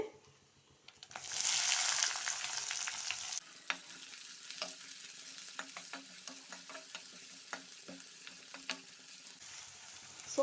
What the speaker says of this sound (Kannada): ನಾನು ಒಂದು ಈರುಳ್ಳಿ ಕಟ್ ಮಾಡಿ ಇಟ್ಕೊಂಡಿದ್ದೇನೆ ಚಿಕ್ಕದಾಗಿ ಹಚ್ಚಿಟ್ಕೊಂಡಿದ್ದೇನೆ ಆ್ಯಡ್ ಮಾಡ್ತೇನೆ